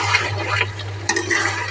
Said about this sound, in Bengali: দেখো আমার চিকেনের ঝোল হচ্ছে।